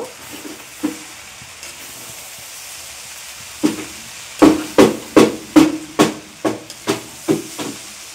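Mutton chowmein is tossed in a hot pan with chowmein masala and chili flakes, a steady sizzle under a run of about ten rhythmic, loud metallic scrapes and clanks of the spatula.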